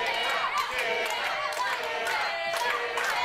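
A wrestling crowd at a women's championship match cheers and chants for a wrestler named Sara, a dense, steady roar of many voices with rhythmic swells and scattered claps filling the whole stretch.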